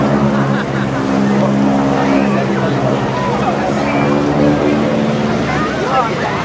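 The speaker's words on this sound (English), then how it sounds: "that wonderful rasping sound, that's from the mighty Hamilton propellers on the front end of a 450 horsepower Breitling engine" Rasping drone of a propeller aircraft with Hamilton propellers on a 450 horsepower engine, performing stunts at a seaside airshow; loud, steady, harmonic-rich engine tone that swells slightly, with a commentator talking over it throughout.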